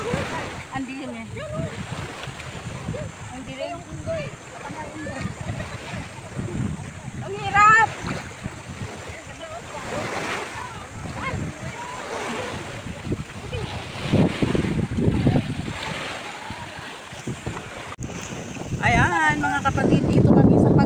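Ocean waves at high tide along the shore in Pagbilao, Quezon surge and wash in a loud, continuous roar, buffeted by wind noise on the microphone, with people talking over it.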